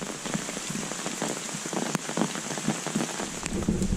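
Steady rain falls through a forest in Taiwan, a dense even patter with scattered nearby drips and taps, continuous and fairly close, with no voices over it.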